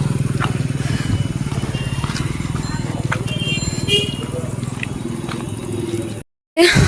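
Motorbike engines idle and rumble on a busy old market road in Hasnabad, with a steady low throb, horns and street noise around, ending in a brief dropout.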